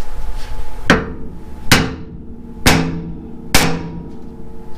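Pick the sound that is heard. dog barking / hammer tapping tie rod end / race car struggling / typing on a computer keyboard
hammer tapping tie rod end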